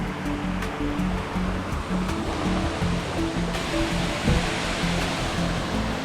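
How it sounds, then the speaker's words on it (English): A waterfall in Bali roars as a steady, dense rush of falling water heard from nearby, with no voices over it. "See the waterfall."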